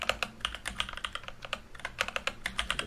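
Rapid bursts of keystrokes on a computer keyboard while a Selenium login test is set up in C#, with uneven clicking rhythms and short pauses, close and moderately loud, no voices.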